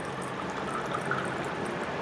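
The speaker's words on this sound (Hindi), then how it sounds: "ये हमने पानी डाल दिया" Water is poured into an empty glass as part of a magic trick, giving a soft, steady trickle and splash that stays faint and continuous for about two seconds.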